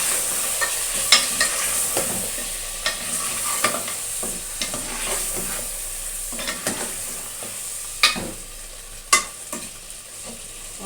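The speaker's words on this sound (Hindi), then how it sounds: "गोश्त हमारा अच्छे से भून चुका है, ऑयल लेके ऊपर आ गया है।" Mutton frying in oil for nihari sizzles steadily in a pan, close up, with repeated sharp scraping clicks of a spoon stirring the meat at irregular intervals.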